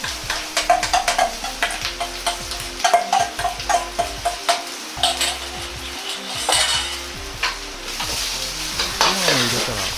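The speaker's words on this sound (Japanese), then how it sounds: "ご飯を入れたら、卵が一体になるように炒め合わせていきます。" Rice and egg stir-fried in a pan for fried rice with minced pork and lettuce, with steady sizzling and repeated scraping and clanking of a spatula against the pan, close and fairly loud.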